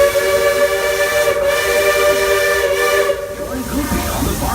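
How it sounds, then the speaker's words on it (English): Steam locomotive of the Walt Disney World Railroad, Roy O. Disney, gives a long, loud, steady multi-tone whistle with hissing steam, then the tone cuts off and hiss and rumble continue, sounding at night. "That echoing whistle."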